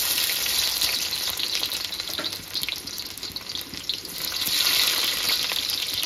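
Chopped onions hit hot oil in a pan for a green chicken curry, giving a loud, continuous crackling sizzle that swells and eases slightly, heard close with no talking.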